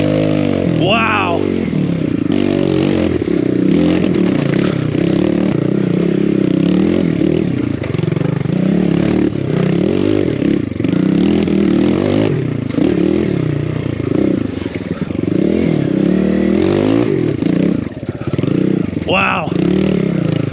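Enduro motorcycle working its way along a tight, weaving trail near Slab City, the engine droning loud and steady throughout with shifting revs, clattering and scraping, and a rider talking over it.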